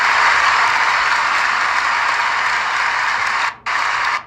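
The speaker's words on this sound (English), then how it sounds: "Clapping does not count." Students in a classroom clap loudly and continuously in a dense burst, the sound holding steady before briefly dropping out and then ending abruptly.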